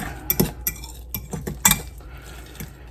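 A utensil stirs chaffle batter in a bowl, producing quick irregular clinks and scrapes against the side, close and fairly loud.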